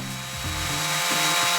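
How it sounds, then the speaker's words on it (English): A power tool whirs steadily to sand a silver-soldered repair on a brass magneto plate, its pitch dipping and rising several times as pressure on the metal changes, loud and close with no talk. "a bit of sanding"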